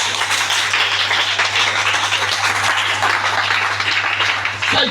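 A church congregation applauding at a French-language service, a dense, steady wash of many hands clapping that carries on for several seconds without letup before tapering slightly at the end.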